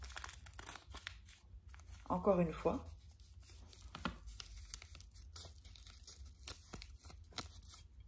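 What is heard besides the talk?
sheet of paper being folded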